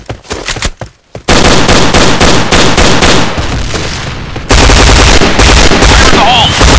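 Weapon gunfire sound effects: loud, dense machine-gun bursts and rapid shots fire almost without pause, broken only by a short lull near the start before a sustained barrage that intensifies toward the end.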